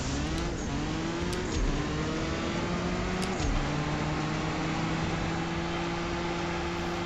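Car engine revving in the drag racing game CSR2, a loud, sustained droning engine note that climbs through gear shifts with brief dips, steady and close throughout.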